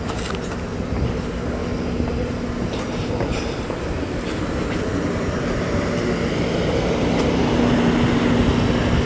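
A train rolls along the rails with a continuous, moderately loud rumble and rattle that swells slightly toward the end, with no voices.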